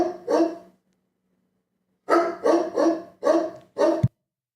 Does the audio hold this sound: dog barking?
yes